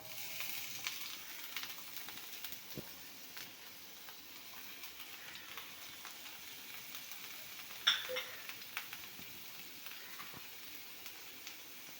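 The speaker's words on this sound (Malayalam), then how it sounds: "ചൂടായി നമുക്കതിലേക്ക് കൊച്ചുള്ളി ഇടാം" Small shallots sizzle softly in hot oil in a pan while a Kerala-style onion curry is being made. A low, steady frying hiss runs throughout, broken by a few brief crackles and pops.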